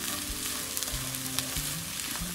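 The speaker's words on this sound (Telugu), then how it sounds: "ఈ మసాలా ఫ్లేవర్ తోటి పొటాటోస్ ఇంత చక్కగా ఫ్రై అయిపోయి మంచి" Potatoes and coconut frying with masala in a pan, a steady, close, loud sizzle with faint stirring scrapes running throughout.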